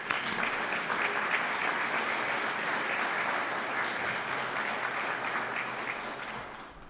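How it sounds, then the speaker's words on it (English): Audience applause for speakers at a scholarship panel discussion, a broad, steady roar of many clapping hands that holds for several seconds and then slowly tapers off. "Everyone give them a round of applause,"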